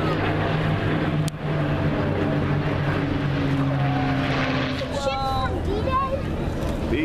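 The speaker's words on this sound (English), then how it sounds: "B-17." A World War II B-17 bomber drones overhead during a flyover in Washington, DC, its propeller engines giving a steady throbbing hum with shifting tones, while people talk nearby.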